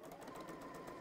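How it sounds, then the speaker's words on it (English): A sewing machine runs steadily stitching a line with bright pink thread on a reversible T-shirt tote bag, a continuous close whirring hum throughout. "And let's go take this over to the sewing machine"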